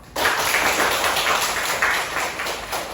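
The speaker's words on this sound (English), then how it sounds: "Please give a big clap." A classroom audience of teachers and students breaks into steady, dense clapping that starts abruptly and holds at an even, fairly loud level for a few seconds.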